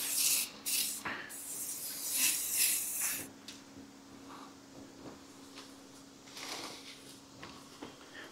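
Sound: spray paint rattle can spraying primer on car

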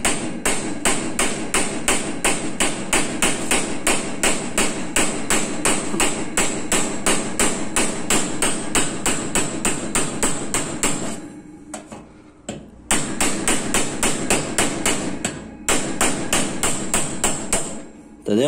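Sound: light hammer taps knocking out a rivet head

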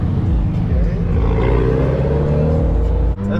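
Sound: supercharged car engine revving at car show

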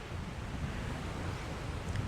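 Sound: sea waves and wind at Phala beach

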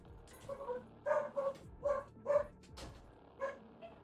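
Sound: dog

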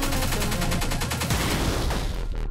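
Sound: grenade explosions in a video game

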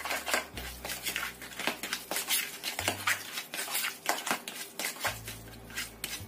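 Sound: stirring batter mixture after adding an egg

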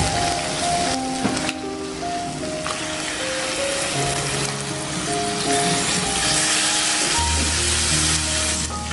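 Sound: mutton keema frying in masala and oil

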